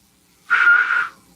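A person imitates a whistle with a single sustained, clear tone lasting about half a second, loud and close against near silence.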